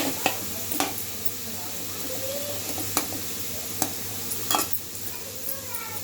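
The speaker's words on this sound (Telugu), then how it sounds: "పొనగంటాకుని వాష్ చేసుకున్న దాన్ని దీంట్లో వేసి దాంట్లో వేసి బాగా వేయించుకోవాలండి" Washed ponnaganti leaves frying in a pan give a steady low sizzle, with sharp intermittent clicks and scrapes of a spatula stirring them every second or so.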